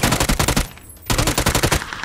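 Rapid automatic gunfire in PUBG comes in loud, close bursts of evenly spaced shots, with a brief pause in the middle before the firing resumes.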